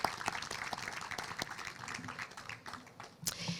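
Light, scattered clapping from a small audience at a mural celebration, faint and somewhat distant, with individual claps standing out over a few seconds.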